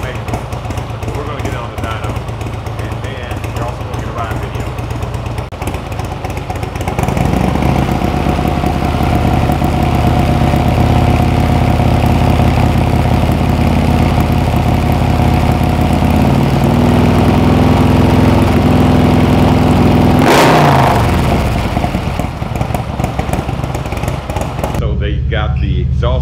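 A Harley-Davidson Street Glide motorcycle engine on a dyno idles roughly, then roars into a sustained loud run with rising revs and a sharp peak near the end, close and indoors.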